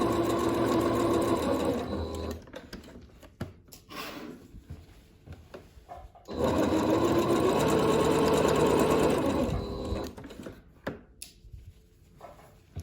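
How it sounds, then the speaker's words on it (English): A sewing machine stitches the crotch seam of a pair of shirred-waist pants, running in two steady, loud bursts of rapid needle hum separated by a quieter pause with small handling clicks, and no talking. "we will sew the crotch of the pant"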